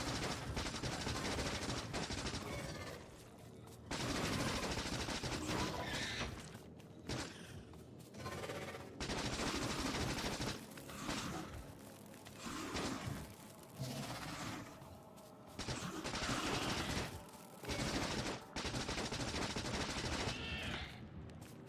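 Turrets in Factorio Space Age fire at worms in dense, sustained bursts of rapid gunfire. The shooting runs loud and continuous with brief pauses between volleys.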